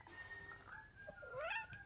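A single kitten meows softly nearby, a short rising and falling call at the end of a quiet stretch.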